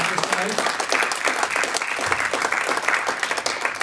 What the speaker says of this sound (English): Let's give a quick round of applause to Jackson and Rick for the answers tonight